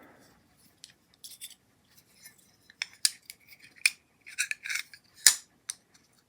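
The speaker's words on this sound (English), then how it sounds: "So I can cut a little square off of that to make as a spacer." Scissors snip a small square spacer off a piece for a quarter-scale Star Wars speeder bike build, a series of short, sharp, close cuts coming irregularly and growing busier toward the end.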